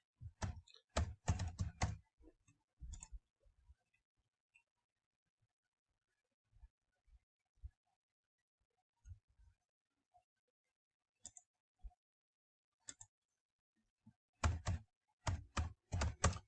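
A username being typed on a computer keyboard: quick bursts of soft key clicks at the start and again near the end, with scattered isolated taps in a quiet stretch between.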